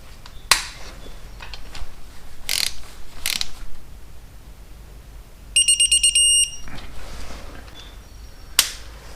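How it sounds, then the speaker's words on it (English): A torque wrench tightening cam chain tensioner bolts on a 2006 Harley-Davidson Ultra Classic, with several scattered metallic clicks and taps, then a rapid run of ratchet clicks and a final sharp click, close up, no talking. "I'm going to tighten this one to 15 foot-pounds"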